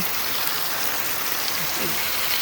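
Steady rain falls at night around a campsite where people shelter under a dome tent, a dense, even hiss that fills the whole clip without pause.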